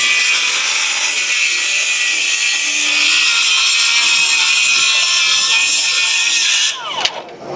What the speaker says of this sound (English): something new here from Bosch is the rear handle circular saw